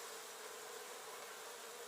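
Honeybees spread across an opened hive during spring work at a bee farm give a steady, even buzzing hum, faint and continuous, with no voices.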